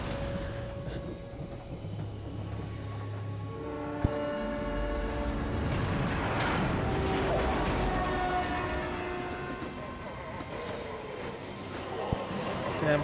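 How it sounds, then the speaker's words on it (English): A train passes in Ratchet & Clank: Into the Nexus, a sustained rumbling roll with horn-like tonal blasts rising through the middle, steady and fairly loud over game ambience, with voice-like sounds mixed in. "Damn train."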